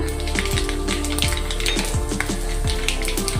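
Panch phoron and cumin seeds fry steadily in hot oil, a dense continuous sizzle and crackle, loud and close, with faint stirring and pan clinks underneath.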